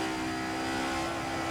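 A DTM touring race car engine, from an Alfa 155, BMW M3 or Mercedes 190, holds a loud, steady high-revving whine on track, a continuous buzzing drone heard alone without talk.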